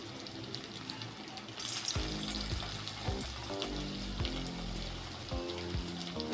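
Prawn fritters fry in hot oil with a close, crackling sizzle. Sharp pops and spatters break out as they go into the pan.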